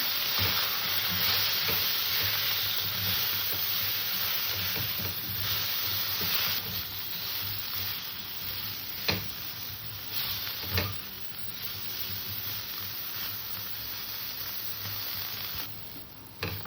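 Soy chunks sizzle steadily in hot oil in a wok, a continuous crackling hiss with a few sharp pops and clinks along the way.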